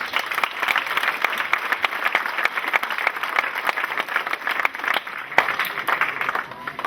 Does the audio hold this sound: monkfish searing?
no